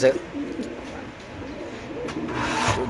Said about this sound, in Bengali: এখানে আছে চুয়াত্তর নম্বর কবুতরের খাঁচা এক জোড়া কবুতর আছে